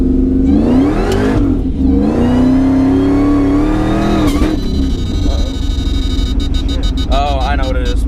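A 650+ whp Ford SVT Lightning pickup truck accelerating hard at full throttle, its engine note climbing loudly, easing, then rising again in a second pull, close and dominant with talk mixed in.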